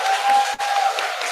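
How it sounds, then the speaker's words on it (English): Audience applause at a law faculty seminar, a steady wash of clapping from a crowd indoors lasting a moment with a brief dip midway. "let's give another applause to him"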